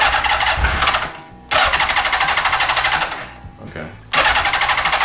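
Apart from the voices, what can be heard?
Honda CB750 motorcycle engine starting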